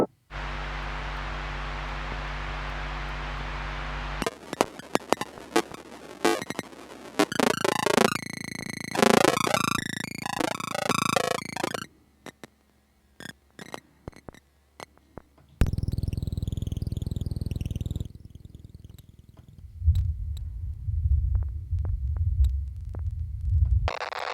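A series of synthesized noise effects from a noise generator plugin plays in turn: a buzzing drone, glitchy stuttering bursts, a sweeping hiss, then low throbbing pulses, with brief gaps between.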